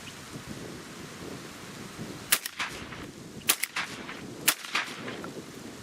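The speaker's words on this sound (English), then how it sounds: "So let's see how it functions with 7/8 ounce Remington 1200 foot per second target loads." A 20 gauge shotgun fires 7/8 ounce Remington target loads outdoors, three sharp shots about a second apart over steady wind noise.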